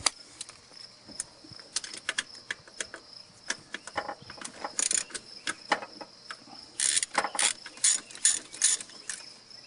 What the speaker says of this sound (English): Now we'll proceed to remove all of the main bolts.